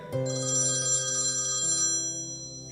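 A mobile phone rings with an incoming call, its electronic ringtone looping steadily and loudly with bright melodic tones for nearly three seconds, alone with no voices.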